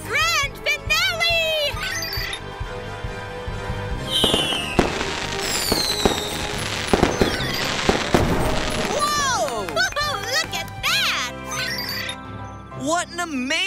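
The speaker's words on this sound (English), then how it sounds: "Why are fireworks different colors? Fireworks are different colors because of the different metal salts they burn." Grand finale of a fireworks show: dense bursts, crackles and whistling rockets pile up loud and fast, with children's voices and other speech heard between and under the explosions.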